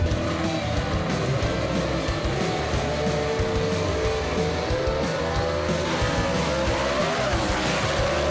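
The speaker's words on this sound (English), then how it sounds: "Oh, we got a drag race here, folks." Gasser cars drag racing, including a 1949 Studebaker, roar loudly and steadily down the strip, with engine noise filling the whole clip and the pitch climbing near the end.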